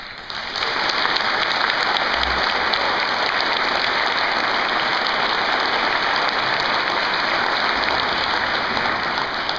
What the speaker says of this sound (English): Let's have a round of applause for these driven young scholars